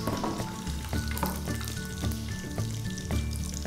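Green chillies frying in hot oil with ginger and turmeric for a potato-onion stir-fry, a steady close sizzle with periodic stirring clatter and no voices.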